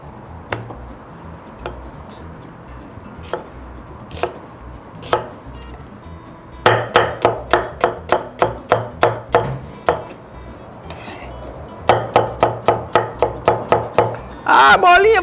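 Onion chopped with a knife on a board for a Brazilian country-style escondidinho: sparse single chops at first, then fast rhythmic bursts of close, sharp knocks, with a voice speaking over parts.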